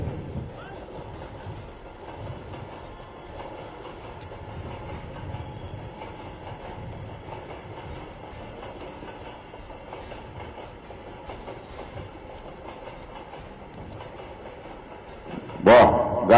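Metro train rolling past an outdoor political rally in Mankapur, Uttar Pradesh, a sustained rumble with clickety-clack under crowd noise and a loudspeaker voice, swelling sharply in the final seconds.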